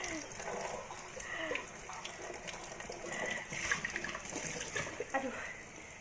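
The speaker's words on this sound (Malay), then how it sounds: "Mas Arya mau kasih mandi kucing" Water running steadily, like a tap gushing into a basin while a cat is bathed at home, a continuous splashing wash with faint voices and small movements mixed in.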